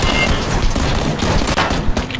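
Gunfire crackles in PlayerUnknown's Battlegrounds, a dense burst of overlapping shots, loud and continuous, with sharp cracks scattered through the short stretch and no talking over it.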